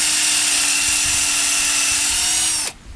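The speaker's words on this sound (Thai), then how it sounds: "ผมก็เจาะลงไปเลย" A power drill bores into bamboo with a loud, steady high whine that runs continuously and then cuts off abruptly near the end.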